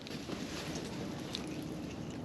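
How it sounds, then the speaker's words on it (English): Steady wind rushing across a frozen Lake Monona during ice fishing, a constant low buffeting roar with no talk. "Starting to get pretty windy"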